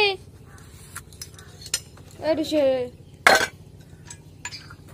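Metal plates clatter and clink close by after a rice meal, with sharp ringing knocks and scraping among brief quiet gaps, and a short vocal sound partway through.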